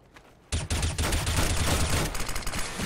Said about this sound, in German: von wo kamen die Schüsse?